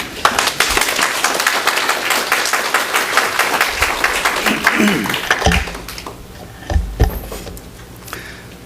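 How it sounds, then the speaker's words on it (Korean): A church congregation claps steadily for several seconds welcoming a pastor, the applause thinning and fading out, followed by a few scattered thumps and rustles. "우리 나오실 때 힘찬 박수로 우리 환영하겠습니다"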